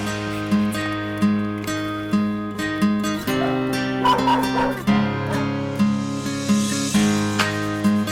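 Many dogs bark and yip repeatedly inside an animal shelter, a dense overlapping chorus of insistent barks and whines over a steady background hum.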